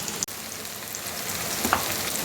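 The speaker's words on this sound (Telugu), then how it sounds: "ఓ బాండీలోకి నూనె తీసుకొని, కొంచెం నూనె ఎక్కువే పడుతుంది, ఈ ముక్కలన్నిటినీ మనం ఫ్రై చేసుకోవాలన్నమాట." Bitter gourd pieces fry in a generous amount of oil in a pan, giving a continuous close sizzle with a few faint pops and clinks.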